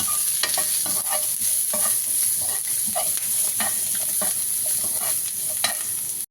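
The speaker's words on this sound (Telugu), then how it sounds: "అలాగే జీలకర్ర అలాగే కరివేపాకు కొంచెం ఫ్రై చేసుకున్నాము" Cumin seeds and curry leaves fry in a hot pan with a steady sizzle, overlaid by repeated scraping stirs of a spoon against the metal, close and continuous with no talk.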